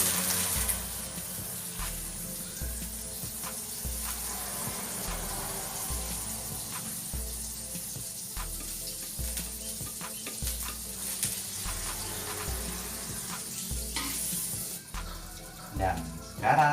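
Butter sizzling in a hot wok while cooking martabak telur at home, a steady frying hiss with regular rhythmic scraping or stirring pulses throughout, fairly close and moderately loud.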